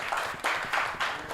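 Applause from a small conference audience at an agribusiness innovation challenge finale, with sparse rhythmic claps in a few bursts rather than a full roar, heard briefly.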